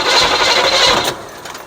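A 1972 Chevelle engine, long left sitting in a field, cranks over on the starter without firing, a steady churning whir that cuts off abruptly partway through, leaving a faint quiet tail.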